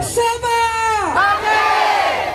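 A campaign rally crowd of the Warisan party in Putatan lets out a loud, sustained group cheer and shout, voices rising together, swooping down and swelling again over a couple of seconds, close and full.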